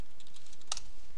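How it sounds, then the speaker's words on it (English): A few quick keystrokes tap on a computer keyboard, light and close, with one sharper click standing out in the middle of a brief burst. "in the search bar type in window blinds"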